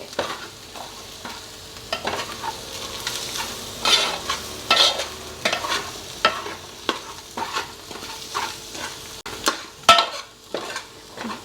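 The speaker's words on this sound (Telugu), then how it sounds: "గరం మసాలా కూడా ఇప్పుడే వేసేయాలి వేసేసి బాగా వేయించుకోవాలి" Small Godavari river fish pulusu masala fries with garam masala in a pan, giving a continuous sizzle broken by frequent rhythmic scrapes and clinks of a spoon stirring against the metal. The sound is close and there is no talk.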